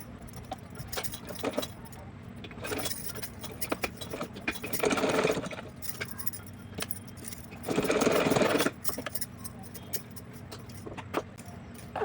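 A sewing machine stitches a small doll dress in two short loud bursts of whirring, separated by quieter handling noises and light clatter.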